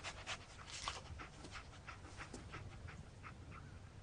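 Dogmeat, the dog companion in Fallout 4, pants in quick rhythmic breaths, soft and close over a low ambient hum, with no talk.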